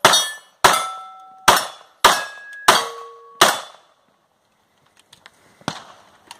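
Six sharp gunshots ring out in a steady sequence, each followed by a ringing metallic clang from the steel targets, then faint distant pops and one more shot trail off on an outdoor shooting range.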